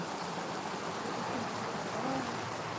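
Continuous rushing water, a steady broadband wash like a stream or runoff, moderately loud with no pauses.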